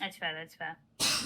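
A single sharp sneeze bursts out at the very end, loud and close, right after a few short spoken words.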